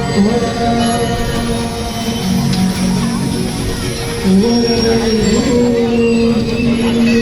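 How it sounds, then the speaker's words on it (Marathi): A small children's ride train runs at a busy Malvani food festival fair in Naigaon, Dadar, giving a loud, continuous mechanical rumble with sustained metallic squealing tones close by, over crowd noise. "आणि इकडे बघा ही छोटीशी ट्रेन आहे."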